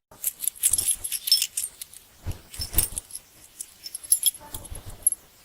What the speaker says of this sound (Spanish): ¡Llaves!